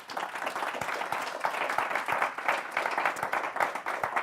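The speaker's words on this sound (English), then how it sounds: "How about a round of applause for our excellent panelists?" Audience at a panel discussion on industrial power demand and electrification applauds the panelists, a steady wash of many hands clapping, moderately distant, with no talk over it.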